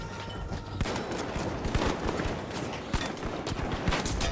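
Rapid shotgun blasts in the video game The Finals crack out in dense overlapping bursts over a constant backdrop of game noise, loud and close, with no talk.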